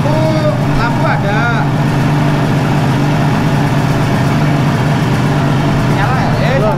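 A Suzuki GT185 motorcycle engine idles steadily with a smooth, even rumble, close and loud, while a person talks over it.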